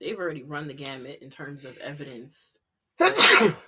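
A single sharp sneeze bursts out after a stretch of continuous conversational talk, loud and close, ending the clip after a brief pause.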